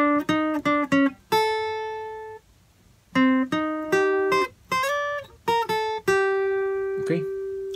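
A guitar plays the third fragment of the melody of a song, clusters of quick plucked notes broken by a few long sustained tones, close and fairly quiet with no voice.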